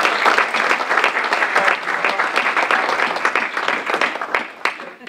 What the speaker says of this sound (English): let's have a round of applause with Chef Charles Herman and his program